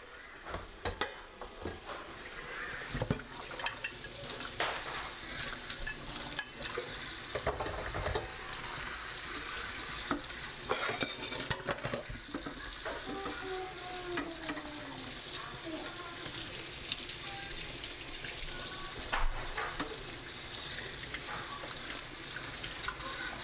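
Plantains fry in a pan with a continuous soft sizzle, while running tap water, splashing and dish clatter from washing up at the sink mix in throughout.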